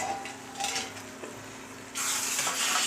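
Tomato chutney made with red chilli, salt and jaggery cooks in a pan on a low flame, giving a soft bubbling sizzle with light scraping and stirring and a brighter hiss near the end.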